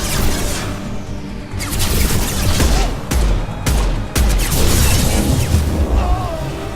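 Gunfire in Mass Effect 2: loud, close volleys of shots with crashing impacts, coming in dense, uneven bursts throughout.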